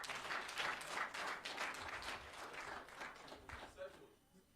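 An audience claps for a barrister during a Nigerian call-in program, a dense, steady round of applause that fades slightly toward the end, with voices talking over it.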